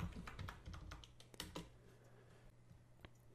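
Quick, faint keystrokes on a computer keyboard, a short burst of close clicking with a low background hum, thinning out to a single final tap.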